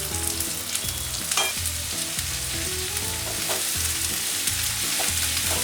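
Onions fry in a pan for prawn masala, giving a continuous bright sizzle with intermittent stirring scrapes and low clunks, moderately loud and without talk.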